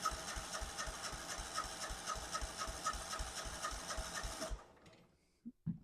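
A Kohler Command V-twin engine on a Craftsman garden tractor cranks over steadily for a compression test, a close, even rhythmic churning that runs for several seconds before stopping abruptly, followed by a couple of faint knocks.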